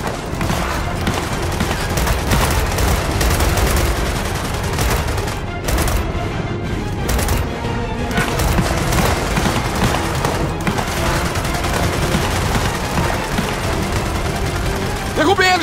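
Dense, continuous gunfire in the video game Gears of War 4 on Insane difficulty, with rapid overlapping bursts and booms throughout and in-game voices calling out over the shooting.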